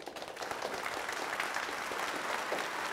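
A talk show studio audience applauds steadily, a dense, continuous wash of clapping that holds at an even level from start to finish with no talk over it.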